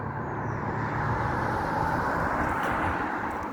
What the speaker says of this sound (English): Wait for this traffic.